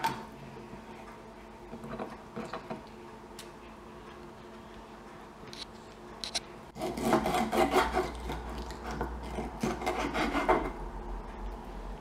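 Pomfret fish having its fins cut off during cleaning, producing rough rasping and snipping scrapes that start sparse and faint, then turn dense and louder for several seconds before easing off, with no talking.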